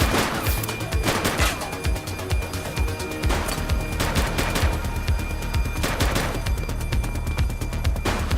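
Rapid gunfire from an enemy shooter in the video game The Precinct: loud, dense bursts of shots and volleys rattling almost continuously with no pauses.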